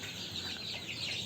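Fayoumi and local chicks cluck faintly in a short burst, a soft scatter of bird calls with no voices.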